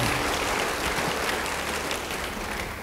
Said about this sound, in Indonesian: Yang suka beri tepuk tangan bagi Tuhan.